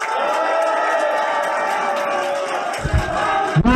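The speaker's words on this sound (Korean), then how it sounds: "응원의 박수 한번 부탁드립니다." Crowd noise at a Korean campaign rally opening a campaign office, a dense sustained roar of applause and cheering from a large gathering, with a few sharper bursts near the end.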